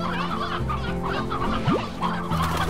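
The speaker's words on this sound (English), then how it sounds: "Elder chicken." An elder chicken in the Slime Rancher game clucks repeatedly and clearly up close, with a steady backing soundtrack and a brief rising whoosh in the middle.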